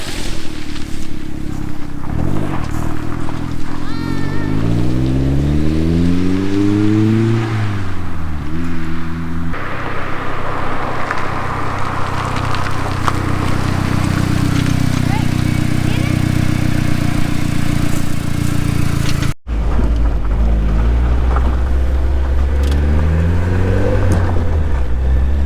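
A lifted Mazdaspeed car drives off-road through mud, its engine revving up and down in loud rising and falling sweeps, then settling into a steady drone before a harder, rougher run near the end.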